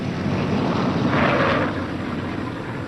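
A World War II B-17 bomber on a rough landing: a steady, broad engine roar with a brief swell in the middle, heard alone without voices.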